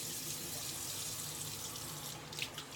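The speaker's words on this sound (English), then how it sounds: "So, get my face wet real quick." Tap water runs steadily into a sink as a face is wetted before a shave, a constant rushing stream that breaks into a few splashes near the end.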